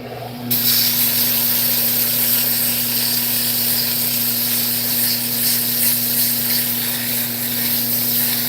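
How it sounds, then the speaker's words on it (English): Sandpaper is pressed against a wooden yo-yo turned from firewood spinning on a lathe, a steady loud hiss over the machine's constant motor hum, starting abruptly after a brief quieter moment. "I might just sand that off."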